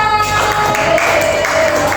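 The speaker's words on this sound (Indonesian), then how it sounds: "Tepuk tangan untuk kita semua" Classroom applause during an eleventh-grade micro-teaching lesson, a steady wash of clapping from the students that holds at an even, fairly loud level for about two seconds, with no talk over it.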